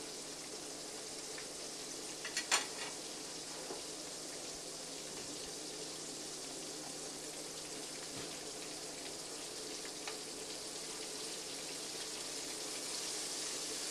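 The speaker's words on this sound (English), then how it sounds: "Cook it up nice and crisp in that hot oil. Hot bluegill fillets." Bluegill fillets fry in a pan of hot oil, a steady broad hiss and crackle running throughout with a few brief pops near the start, no voices.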